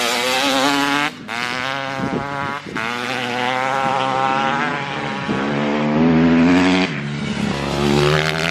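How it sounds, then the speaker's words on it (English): Motorbikes ride past outdoors with loud, near engines revving and whining in overlapping passes that rise and fall. "Are you watching the boys on the motorbikes?"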